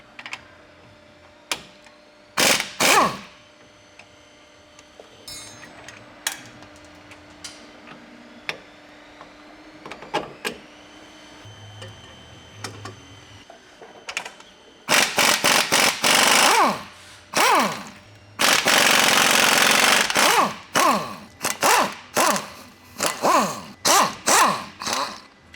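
A socket tool loosens the U-bolt nuts on the rear axle of a 2016–2023 Toyota Tacoma during a lift block install. Sharp ratcheting clicks and metallic clanks come close and loud, building into dense rattling bursts near the end.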